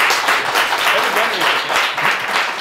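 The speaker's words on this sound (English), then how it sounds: "just volunteering is enough to get a round of applause" An audience at a makers' community meetup gives a round of applause, a thick, continuous wash of clapping that stays loud and close from start to finish.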